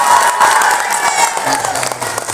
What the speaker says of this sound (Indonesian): Kurang keras tepuk tangannya tuh ibu.